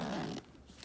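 A Nomatic backpack's expansion zipper is pulled open in one quick rasping stroke, close and fairly quiet, followed by faint handling rustle.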